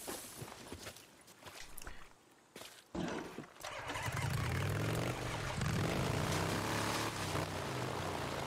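A motorcycle engine in the video game Days Gone starts up and settles into a loud, steady idle drone after a few seconds of quieter, scattered game sounds.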